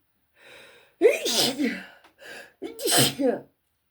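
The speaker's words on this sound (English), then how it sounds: "Gonna sneeze." A person sneezes loudly twice in quick succession, each preceded by a sharp inhaled breath, close to the listener.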